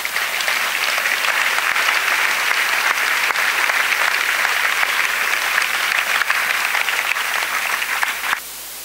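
Congregation at a prayer gathering claps together in a dense, loud, steady wash of applause that holds for several seconds and then drops away abruptly near the end.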